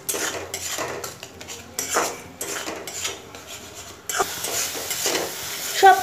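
A metal spoon scrapes and stirs turmeric, salt, spices and a splash of water in a pan for Bengali fish curry, with repeated close clinks and scrapes over a faint sizzle.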